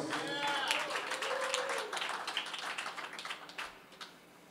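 Audience applause and cheering at a live band show in Brooklyn's Sultan Room, a dense wash of clapping that starts loud and gradually thins out, with some voices mixed in.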